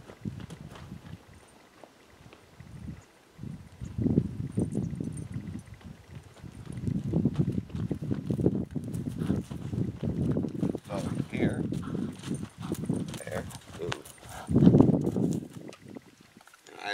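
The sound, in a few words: horse hooves clip-clopping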